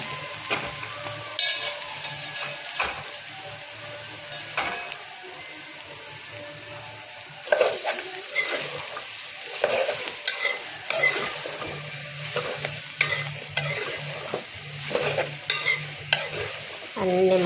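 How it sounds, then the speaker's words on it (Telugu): Ridge gourd pieces stirred and frying in oil with browned ginger, a steady sizzle broken by repeated scraping strokes of a spatula against the pan, close and fairly loud with no talking. "అల్లం బ్రౌన్ కట్టింది ఇక ఈరకాయ ముక్కలు వేద్దాం"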